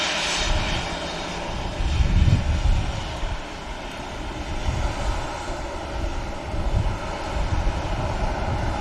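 Ryanair jet departing Manchester Airport, a steady broadband engine roar that holds at moderate loudness across the whole stretch, swelling slightly in places, with no talk over it.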